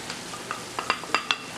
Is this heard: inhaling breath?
no